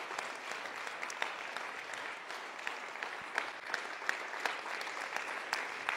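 A church seminary audience applauds, a steady wash of many hands clapping at moderate distance for the whole stretch, with no talk over it.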